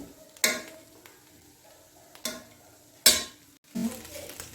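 Spoon stirring mutanjan, a sweet rice dish, in a cooking pot: a few separate scraping strokes with soft clatter, close and fairly quiet, with gaps of near-quiet between them.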